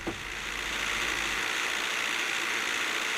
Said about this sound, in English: It's like it's suddenly got two engines and it's playing the track twice.